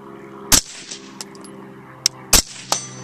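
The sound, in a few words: gunshots from a BCM 11.5-inch SBR rifle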